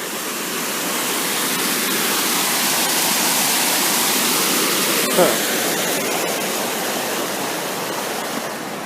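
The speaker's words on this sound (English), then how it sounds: "this unnatural water flow has a pretty neat rock structure" Artificial water flow cascades over a rock structure in Golden Gate Park, San Francisco, making a steady, close, broadband rushing roar that continues without a break.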